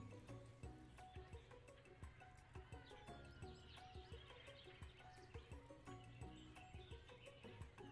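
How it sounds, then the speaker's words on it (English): A cartoon horse belonging to Colonel Sanders whinnies over steady clip-clopping hooves and other busy, dense sound that fills the whole stretch at a constant, fairly loud level. "There's that horse that Colonel Sanders rides to school."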